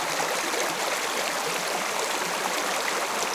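A small river only a few feet wide, swollen and off-colour after rain, rushes and burbles steadily close by with no voices over it.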